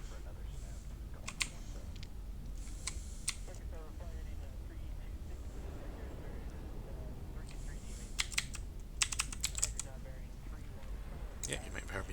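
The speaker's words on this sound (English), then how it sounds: "you might have heard me hitting a few keys on my clicky keyboard there" Fast bursts of typing on a clicky computer keyboard during a Spacebourne 2 gaming session, sharp clustered keystrokes in several runs over a continuous low background hum, with someone talking at times.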